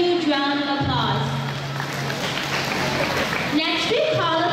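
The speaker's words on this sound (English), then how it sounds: "give them a huge round of applause." A crowd applauds steadily while a voice speaks over the clapping, the claps forming a dense wash throughout.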